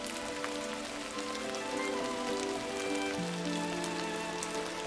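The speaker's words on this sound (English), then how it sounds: "You always got to be prepared for rain, sometimes a downpour in the Great Bear Rainforest." A heavy rain downpour falls in the Great Bear Rainforest on the British Columbia coast. It makes a dense, steady hiss of drops on surfaces, with a faint humming drone underneath and no speech.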